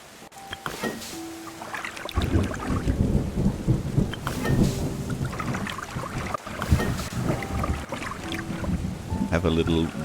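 Rain and rolling thunder in the video game Terra Nil: a steady wash of rainfall with deep rumbling thunder throughout, loud and dense, with scattered chimes from the game interface and a voice talking over it at times.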